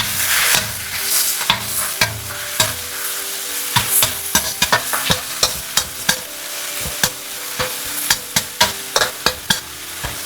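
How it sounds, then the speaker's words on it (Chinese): Spinach stir-fried over high heat with minced garlic and scallion whites in hot oil: a steady close sizzle broken by a quick series of sharp spatula scrapes and clacks against the wok, growing denser toward the end. "然後加入菠菜，大火翻炒1分鐘"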